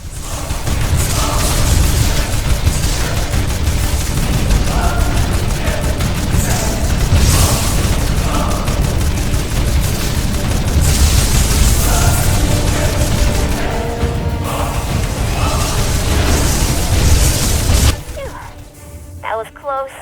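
Bombs shot and exploding in a Jak and Daxter game cutscene: a dense, continuous wall of booming blasts, cracks and clattering machinery, loud and close for most of the time before dropping away sharply near the end.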